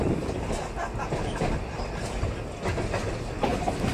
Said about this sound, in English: On the train now for our return trip back to Rockwood.